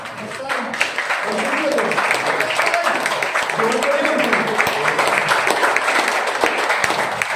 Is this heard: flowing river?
no